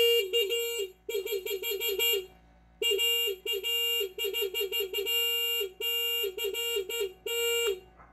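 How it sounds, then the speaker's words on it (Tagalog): A Honda Click V3 motorcycle horn sounds in a series of repeated honks, some short beeps and some longer blasts, loud and close, with brief pauses between bursts. "Bubusina ako."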